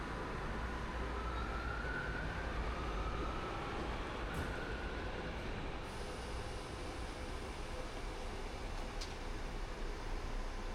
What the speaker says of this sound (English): And there's our train.